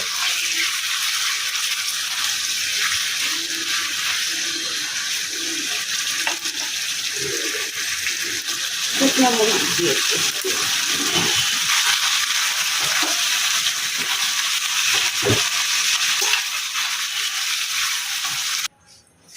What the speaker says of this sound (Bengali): মাংসগুলো এখানে ভাজা ভাজা হোক